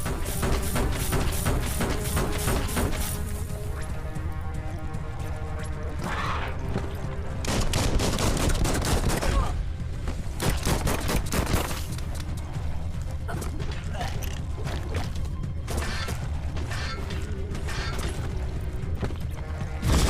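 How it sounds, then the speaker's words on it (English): Rapid bursts of gunfire from the Biomutant video game crackle loudly and near-continuously, with dense repeated shots and clattering mechanical effects layered over game music. "Bullets everywhere."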